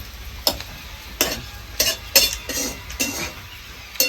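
Cooked vegetable is scooped from a pan on a wood-fired stove into a dish, with a series of close metallic scrapes and clinks of a spoon against cookware and a faint sizzle between strokes.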